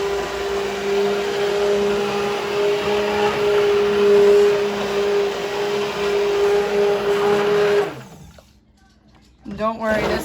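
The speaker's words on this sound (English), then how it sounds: "Just in case you're not used to an immersion blender." A loud, steady motorized whir of an immersion blender chopping tomatoes in a roaster runs for about eight seconds, then cuts off abruptly, leaving near silence before faint rustling.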